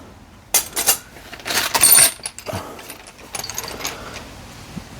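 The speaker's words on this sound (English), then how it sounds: "That's ratchet" A big-drive ratchet wrench from a ute tub toolkit, handled up close: a few sharp metallic clicks and rattling bursts in quick succession, then quieter scattered ticks.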